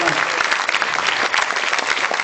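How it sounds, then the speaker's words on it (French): Audience members in a hall at a European fantasy film festival in Strasbourg applaud jury members, a dense, steady burst of many hands clapping throughout. "Marina Devan et Ruggero Dato, qu'on peut applaudir puisqu'ils sont dans la salle."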